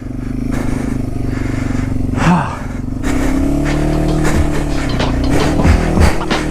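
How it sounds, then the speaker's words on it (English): A Yamaha TW200 motorcycle revs hard while ploughing through a foot of deep snow after a storm, its engine droning loud and close throughout with surging revs and some clattering. "good thing these bikes are tough because I'm revving the piss out of it."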